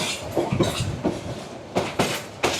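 Upakul Express, the Noakhali–Dhaka train, standing at a Kamalapur railway station platform, giving off a few distinct clanks and wheel knocks over steady station rumble, with no talk.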